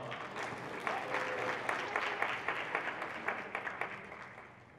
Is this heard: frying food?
no